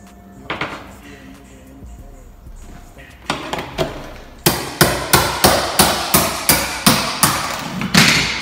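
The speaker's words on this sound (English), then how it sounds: "all I'm using is chisel and a hammer" A hammer strikes a chisel driven under floor tile in steady, sharp blows, sparse at first then a quick regular series of loud, close knocks.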